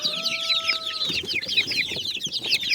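Backyard chickens cluck and peck busily while being fed a mix of sand and ash, a dense overlapping chatter of close, steady clucks with a brief whistle-like tone early on.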